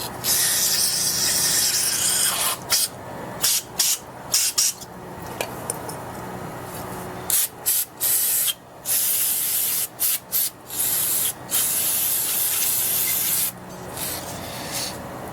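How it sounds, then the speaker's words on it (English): Cleaner sprays in loud, close hissing bursts onto the engine of a 1984 Husqvarna IT490 motorcycle, first in long blasts, then in a series of short, choppy squirts with brief pauses. "Go ahead and spray this out."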